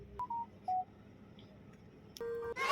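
A Grab driver app chimes a new-order notification as a short run of electronic beeping tones, then a longer tone and a brighter burst at the end, fairly faint and with no talking.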